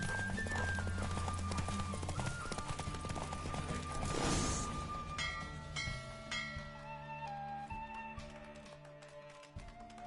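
Roach, the horse from The Witcher game, galloping in a race with steady clip-clop hoofbeats and a whinny, loud and close over the game's background sounds.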